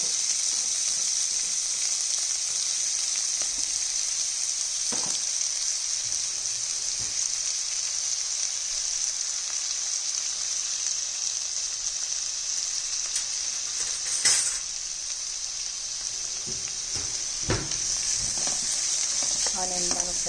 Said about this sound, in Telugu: ఆనియన్ బాగా ఫ్రై చేసుకోవాలండి.